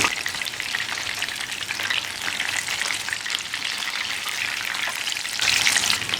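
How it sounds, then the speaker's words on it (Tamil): Chicken leg pieces fry in oil over a low flame, giving a continuous close crackling sizzle that swells slightly near the end, with no talking. "தீ வந்து கம்மி ஃப்ளேம்லேயே இருக்கட்டும், அப்போ தான் நல்லா குக் ஆகும்"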